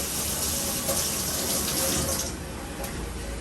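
Tap water runs into a kitchen sink as food is rinsed before cooking, a steady close rushing hiss that holds for a couple of seconds and then thins out, with no talking.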